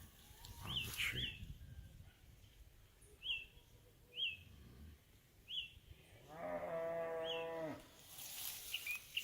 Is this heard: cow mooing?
yes